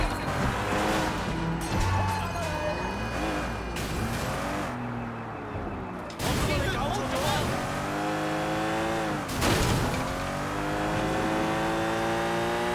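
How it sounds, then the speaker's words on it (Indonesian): Cars racing, several engines revving and rising in pitch with tire squeals and passing whooshes, loud and continuous across the stretch with brief drops between bursts. "Tuh balapan tuh guys di situ."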